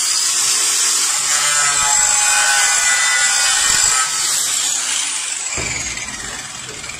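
A metal cutting saw runs steadily through an aluminum profile with a high, continuous grinding whine, tapering off as the cut finishes near the end; no talking.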